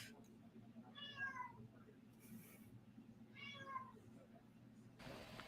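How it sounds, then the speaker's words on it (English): A house cat meows twice in the background, one call near the start and another a couple of seconds later, faint over a steady low hum. "I just hear a cat in the background."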